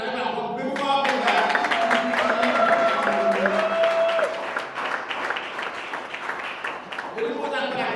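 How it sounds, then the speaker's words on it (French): A church congregation bursts into loud applause and cheering that fills most of the stretch, with a voice speaking over it at the start and again near the end. "Est-ce qu'on peut acclamer très fort? Vous l'acclamez encore plus fort que ça."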